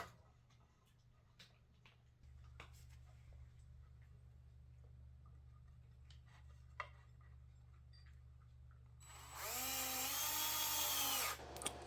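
A power drill drives screws into wooden boards for a clothing hanger, a loud whirring burst with rising and falling pitch near the end after quieter handling noises and faint taps.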